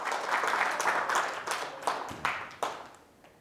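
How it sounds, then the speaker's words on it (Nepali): A church congregation applauds in a burst of hand-clapping that starts full and thick, then thins into a few scattered, separate claps as it fades out. "परमप्रभुलाई ठुलो ताली बजाएर धन्यवाद दिनेछौँ"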